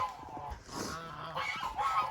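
A flock of geese honking continuously outdoors in a village on a winter morning, overlapping nasal calls at moderate distance with a steady background hum.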